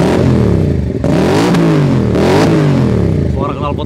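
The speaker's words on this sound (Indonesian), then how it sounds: "Suara knalpotnya saja udah standar ya, sangar gitu loh standarnya." A Keeway V250FI Geronimo motorcycle on its stock exhaust revs loudly and close by, with a few rising and falling throttle blips over a steady idle.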